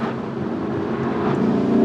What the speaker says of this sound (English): So I love that bark as well.